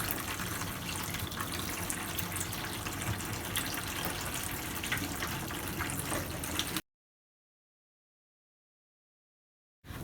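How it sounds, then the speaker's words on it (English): Water siphoned from a guppy aquarium runs into a bucket as a steady, fairly loud splashing flow for several seconds. It then stops abruptly into silence, and a brief burst returns at the very end. "once you see water dripping in your bucket, then you can start"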